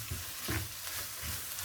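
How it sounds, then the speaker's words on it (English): Ground beef frying with all-purpose seasoning in a pan, stirred now and then, giving a steady soft sizzle with a few scraping stirs, close and alone. "And then you keep stirring."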